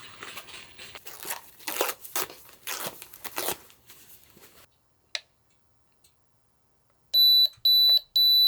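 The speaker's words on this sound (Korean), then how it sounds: "경보기 하나 사왔어요." A newly bought alarm in a small cabin gives three loud, piercing electronic beeps in a regular pattern near the end. They follow a stretch of close crinkling and tearing packaging and then near silence.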